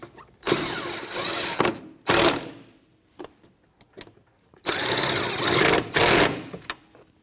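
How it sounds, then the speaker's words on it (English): A 3/8-drive ratchet with a 13mm socket tightens the rear shock mount bolts on a 2011-2021 Jeep Grand Cherokee. The close, loud ratcheting comes in three bursts of rapid clicking with short pauses between them, and no one speaks. "we'll put a 13 millimeter socket on a 3/8 drive, and we will snug them up"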